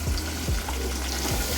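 Chopped tomato sautéing in a pan with onion and garlic already browned, giving a steady sizzle with a few soft stirring scrapes, close and continuous.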